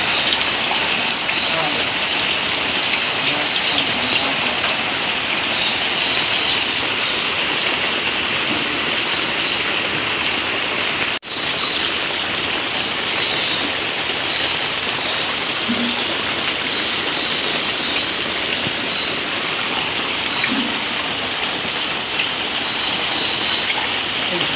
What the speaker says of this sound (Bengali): সকাল থেকে প্রচণ্ড পরিমাণে বৃষ্টি হচ্ছে।